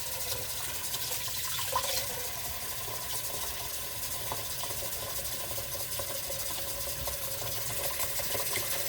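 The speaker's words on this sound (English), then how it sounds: "We want to cover it with enough water." Tap water running steadily into a pot holding cow tongues, a faint continuous splashing hiss with a low background hum and no talk.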